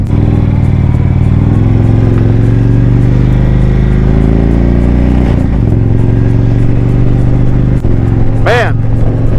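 An Indian motorcycle ridden in sport mode gives a loud, steady engine drone with a brief dip and wind rush, heard close up from the rider's position.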